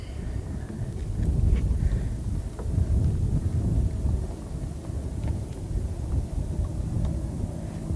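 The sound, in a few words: wind picking up on the water while fishing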